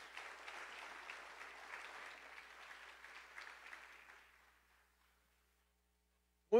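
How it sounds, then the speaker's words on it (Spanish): A church congregation gives a round of applause on a Sunday morning, steady broadband clapping that tapers off around four seconds and fades to silence before a brief voice at the very end. "Por favor, un fuerte aplauso para nuestros cumpleaños."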